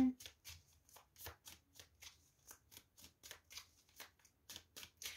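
Tarot cards being shuffled by hand, heard as a quick, steady run of close, crisp riffling flicks repeating about twice a second, with no speech.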